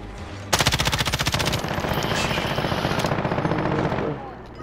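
Rapid automatic gunfire in Call of Duty: Modern Warfare, loud and close, a fast continuous burst that starts abruptly and rattles steadily for several seconds before easing off.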